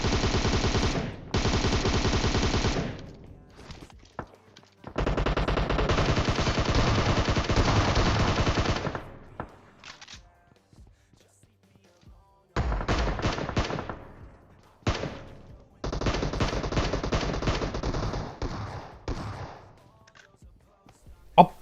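Bursts of rapid automatic gunfire in PUBG Mobile, loud and close, in several long volleys separated by short pauses, with a few single shots near the end.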